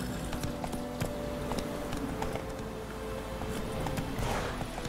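Roach the horse galloping in The Witcher 3, a quick, steady clip-clop of hooves close by, fairly quiet with a soft ambient bed beneath.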